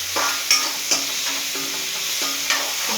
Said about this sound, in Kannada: ಸ್ವಲ್ಪ ಉಪ್ಪು ಹಾಕಿ ಬೇಗ ಫ್ರೈ ಆಗುತ್ತಿದೆ.